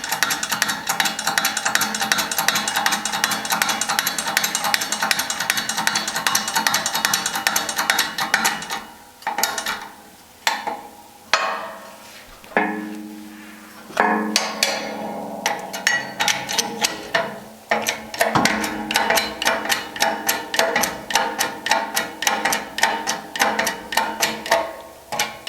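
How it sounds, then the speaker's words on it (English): A shop press ram seats a gear onto a Porsche 915 transmission input shaft through a mandrel, giving dense, close metallic clicking and knocking that stays steady, thins out into separate sharp hits midway, then resumes as rapid ticking. "Then I'm going to bring in my mandrel, which is going to allow me to press on the gear without damaging it"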